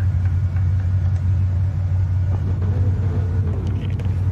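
Race cars run on a track during a Top Gas championship round, a steady, dense engine rumble that holds loud and unbroken throughout, with faint fluctuations layered over it.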